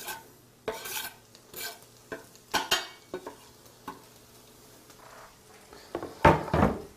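Chopped parsley being stirred through a hot frying pan, giving scattered scraping and rustling strokes over a faint sizzle, ending in a louder burst of stirring.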